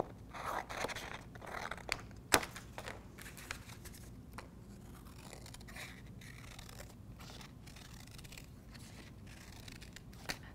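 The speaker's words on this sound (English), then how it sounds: "I'm going to cut a circle now." Scissors snip close up and fairly quietly as a paper circle is cut out, with crisp, irregular cuts and one sharper snap near the start.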